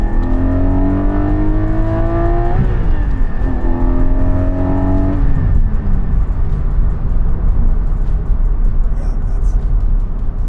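A 2020 Porsche 718 GT4 engine revs loudly and close, climbing in two rising sweeps that each drop back before settling into a sustained, rough roar.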